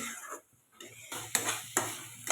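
Jaggery and chana dal puran filling is stirred in a pan, with spoon scrapes against the pan coming in bursts, including two sharper strokes near the end and a brief quiet gap early on.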